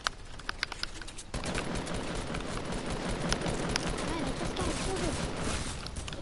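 Rapid assault-rifle fire in a video game, a dense sustained burst of shots after a few scattered earlier cracks, with voices chatting over it.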